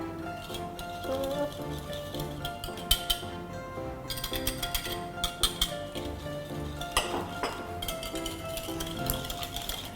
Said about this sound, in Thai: ก็ตีไข่กับน้ำตาลทรายให้เข้ากันค่ะ